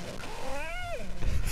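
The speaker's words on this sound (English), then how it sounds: "That's a cat." A cat's meow played as a sound sample in an animal-guessing video game, a single clear, rising then falling cry, close and distinct against low background noise.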